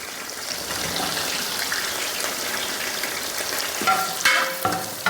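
Ginger and curry leaves fry in hot sunflower oil for a mango pickle, making a loud, continuous crackling sizzle up close, with a few sharper spatters and clinks of stirring toward the end.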